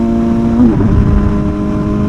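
MV Agusta motorcycle with an aftermarket exhaust, its engine holding a steady loud drone that sweeps up in pitch and falls back in one short rev, heard close and alone.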